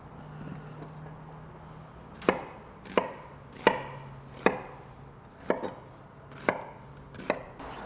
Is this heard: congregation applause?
no